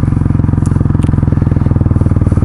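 A small Honda CRF motorcycle ridden on an icy street in very cold weather with strong wind gusts: a loud, close, steadily pulsing engine thrum with rattly clatter and no talk.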